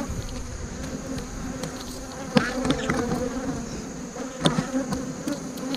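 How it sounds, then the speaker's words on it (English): Honeybees buzzing at a backyard hive entrance with brood, a steady close hum with individual bees swooping past near the microphone, and no talking. "There's a bee coming out right now."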